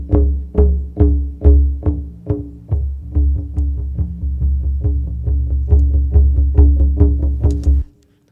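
A punchy drum loop thumps in a steady rhythm, hits starting loud, dipping quieter through the middle via volume automation, then rising again before cutting out at the end.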